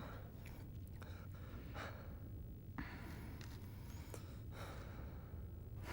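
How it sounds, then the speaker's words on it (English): Heavy, gasping breaths from a character in Prince of Persia: The Sands of Time, repeated sighs and pants over a steady low game ambience, with no talking. "Lots of breathing"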